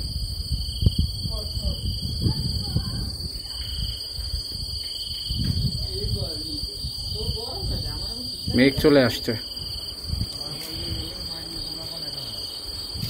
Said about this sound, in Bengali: চতুর্দিকে ঝিঝি পোকার ডাক